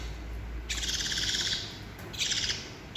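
Two baby birds being hand-fed dry feed pellets give bursts of rapid, high begging chirps, a long run followed by a shorter one after a pause, close and fairly loud over a low background hum.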